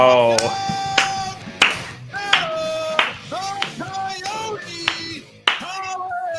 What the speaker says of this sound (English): That's a big clap there for Adam Collins.